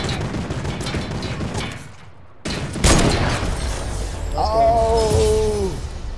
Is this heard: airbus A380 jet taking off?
no